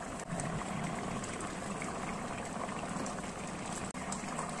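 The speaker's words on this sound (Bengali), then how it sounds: "আলু প্রায় সেদ্ধ হয়ে গেছে।" Potatoes boiling in a pot for aloo biryani, a steady, dense bubbling hiss that runs unbroken throughout at moderate level.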